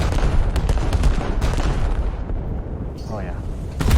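Heavy naval gunfire from HMS Hood's primary and secondary batteries in a warship game, with dense repeated booms and rumbling blasts that stack close together, mixed with battle noise and voices.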